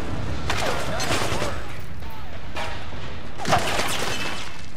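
Bursts of video game gunfire from Metal Gear Solid 4 crackle in several clusters, sharp and mid-loud, with a heavier hit near the end.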